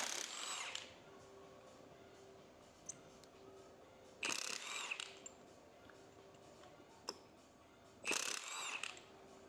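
A ratchet wrench clicks as it undoes cylinder head bolts on a blown-up Volkswagen Scirocco engine, in three bursts of rapid ratcheting separated by quieter pauses with small clanks, close but fairly faint.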